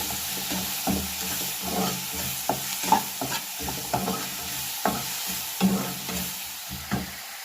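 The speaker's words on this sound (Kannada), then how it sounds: "ಟೊಮೆಟೊ ಹಾಕಿ ಚೆನ್ನಾಗಿ ಮಿಕ್ಸ್ ಮಾಡಬೇಕು." Tomato being stirred into frying masala in a pan, with a steady scraping and sizzling rhythm of repeated stirs, close and moderately loud with no talk.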